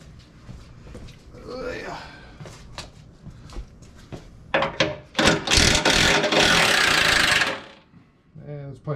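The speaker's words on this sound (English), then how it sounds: "we'll grab the big gun and we'll pull these other bolts out." A heavy impact gun works bolts loose on a 2004 Chevy Avalanche with a 5.3L LS engine during a rear main seal job, with loud rattling bursts, the longest lasting a couple of seconds, amid talk and shop noise.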